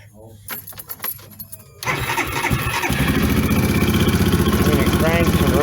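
A Coleman 250UTV engine cranks briefly after some clicks and rattles, then catches and settles into a steady, close-up idle.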